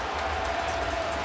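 A stadium crowd roars in a steady, loud wash at a CFL football game between the BC Lions and the Winnipeg Blue Bombers in Winnipeg, rising in reaction to a play.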